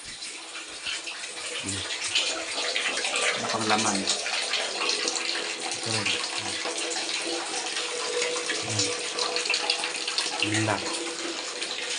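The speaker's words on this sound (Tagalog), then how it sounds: "So ngayon lang dumating ang tubig." Tap water gushes steadily into a container late at night when the household supply returns, a continuous splashing rush, while people talk briefly over it.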